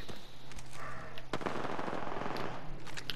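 Rapid bursts of automatic gunfire in a police tactical video game, loud and close, clattering in dense volleys over about three seconds with a brief lull partway through.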